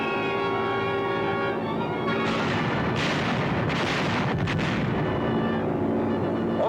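Bombs from a Consolidated B-24 bomber explode over an enemy harbor in a dense, continuous roll of heavy, rumbling blasts that swell louder midway, with no voices heard.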